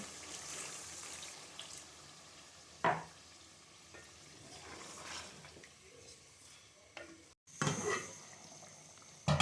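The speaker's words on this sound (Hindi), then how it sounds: "अब हम इसमें 1 छोटा कप पानी का डालेंगे" A small cup of water is poured into chicken frying in a pot for biryani, giving a soft sizzling hiss with a sharp splash near the start, brief stirring clinks, and a louder sputtering burst toward the end.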